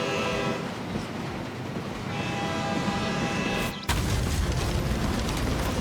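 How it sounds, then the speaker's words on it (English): A train rushing past in the stealth video game Hitman, a loud, steady roar of rolling wheels and rumble close by, with a sharp surge as it passes and no talking. "Here comes the train."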